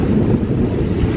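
Strong gusty wind buffets the microphone aboard a sailboat beating close-hauled, a loud continuous roar with rushing water beneath it and no voices.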